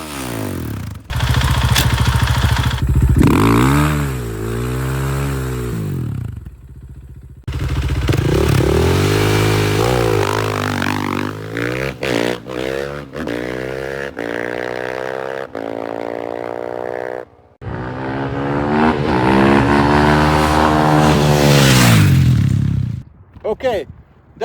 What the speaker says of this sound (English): Today I'm going to test this KTM 500 to see how fast it can go from 0 to 100 kilometers per hour